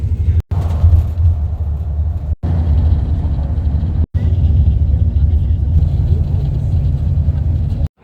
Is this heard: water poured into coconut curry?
no